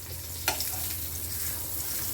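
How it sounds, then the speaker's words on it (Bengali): Thin slices of brinjal (eggplant) fry in hot oil in a pan, a steady close sizzle running throughout with one brief sharp spatter near the start. "বেগুনটা ভাজতে 2 থেকে 3 মিনিট লাগবে, একদম পাতলা পাতলা করে কাটা"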